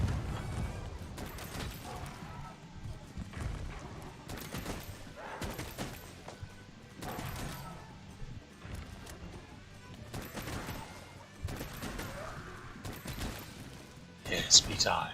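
Repeated bursts of bowgun fire with normal ammo in Monster Hunter World: Iceborne, rapid clustered shots recurring throughout amid game combat noise, with a player talking over the action.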